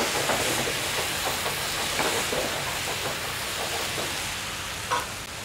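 Mushrooms cooking in a pan over high heat with dried shiitake soaking liquid, a steady hiss and bubbling simmer with faint stirring scrapes, continuous and close, no voices.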